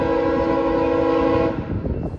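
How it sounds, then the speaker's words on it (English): A J train on the Kingston Subdivision arriving from Toronto, sounding a loud sustained horn chord for about a second and a half before it cuts off, leaving rumbling wheel and engine noise close by. "we get a much better look at the J train arriving from Toronto for its split towards Montreal and Ottawa."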